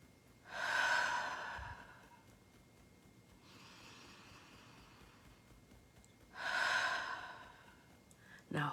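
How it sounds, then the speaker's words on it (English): Two slow, deep breaths drawn in through the nose and released through the mouth, each a soft airy rush with quiet pauses between, close and alone. "Couple more nice deep breaths."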